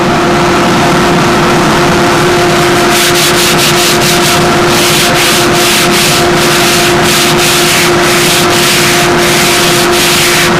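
Sticky-back sandpaper on a sanding bench is rubbed along the edge of a model aircraft part, a loud continuous abrasive rasp with a rhythmic back-and-forth stroking pattern over a steady tonal hum.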